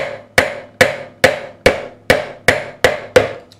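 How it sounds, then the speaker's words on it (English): Frets are hammered into the neck of an ESP Eclipse II guitar: eight sharp, evenly spaced metallic taps, close and clear, each ringing out briefly before the next blow. "As you hammer one in, it alters the ratio."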